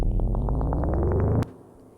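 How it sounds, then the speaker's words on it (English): A bike-like ascending riser from a Logic synth pulses in rapid, evenly spaced throbs that build for about a second and a half, then cut off abruptly into a faint tail. "there is an ascending riser, or transition I like to call it, from the pre-choruses"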